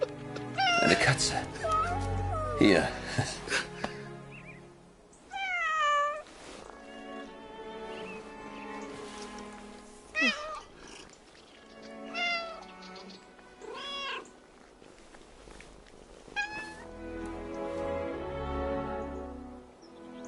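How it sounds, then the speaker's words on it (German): Repeated cat meows from the video game 11-11 Memories Retold, rising and falling calls spaced across the scene, heard with ambient game sound and a voice speaking briefly. "Eine Katze."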